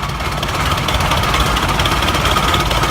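A 100-year-old Avery tractor engine runs steadily in a parade, a loud, continuous low rumble with a rough mechanical chug and no talking over it.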